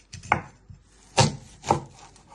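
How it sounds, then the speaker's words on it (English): A knife chops through an onion on a cutting board in three distinct, close chops spaced roughly half a second apart, each a sharp thud with no talking. "Then you chop it down the middle."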